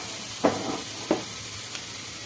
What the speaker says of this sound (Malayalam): നമ്മളെ കറിയിലേക്കുള്ള ഉള്ളിയും കടുകും കൂടി താളിപ്പാണ് കേട്ടോ